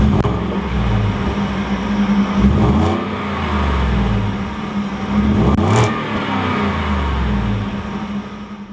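A 2018 Ford F-150 pickup with a V8 engine rumbles deeply and steadily, swelling in a few revving surges before settling again. It sounds close and continuous, with no voices.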